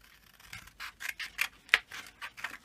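Card is cut down with scissors for a card box, a close series of soft, crisp snips and rubs in an uneven rhythm, fairly quiet and alone.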